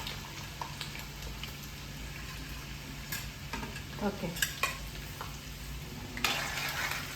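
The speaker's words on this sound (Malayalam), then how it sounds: "ആദ്യം വെളുത്തുള്ളി പൊട്ടി വരും." Garlic crackles and sizzles in hot oil over a lowered flame after mustard seeds have popped, while making a fried lime dish. A steady sizzle runs throughout, broken by sharp stirring scrapes and clinks, and one short spoken word.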